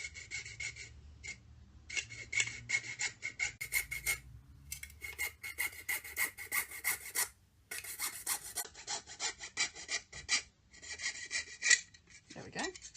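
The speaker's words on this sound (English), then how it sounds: "So all I'm using is my jewellery saw, because you get such a nice cut with it." A jewellery saw cuts through a plastic tank model kit part with close, rhythmic rasping strokes that come in bursts separated by short pauses, with no speech.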